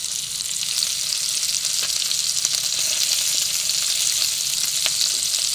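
Florida lobster tails sear in a pan on a camp stove, giving a steady, close, loud sizzle that holds without pause, with faint crackles and pops scattered through it.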